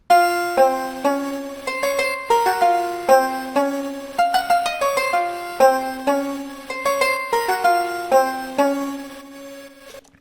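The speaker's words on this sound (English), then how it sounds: "I repeated that pluck sound from Labs" A plucked synth sound from Spitfire Labs, doubled an octave up and run through Little Alter Boy and Redux bit reduction, plays a bright, crisp melodic sequence of short repeated notes, upfront with no voices.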